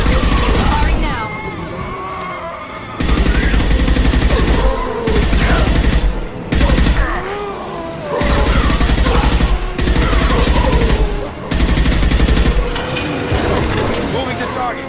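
Gunfire in Mass Effect 2 Legendary Edition against geth, repeated heavy bursts of automatic fire lasting a second or two each, loud and close, separated by brief pauses, with voices calling out between volleys.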